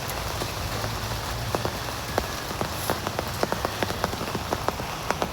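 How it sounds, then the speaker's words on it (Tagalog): Steady rain pours down outdoors, a dense continuous patter on surfaces with sharper individual drops tapping out irregularly over a low background rumble. "Maulan kasi dito sa amin mga idol."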